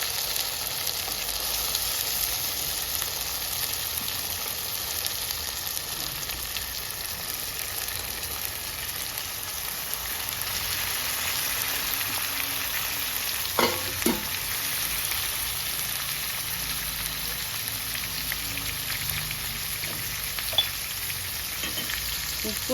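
Chicken frying in a pan for a Telugu-style chicken fry, with a steady, close sizzle and crackle throughout and a few brief clinks of stirring near the end.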